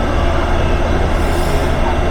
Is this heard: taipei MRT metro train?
yes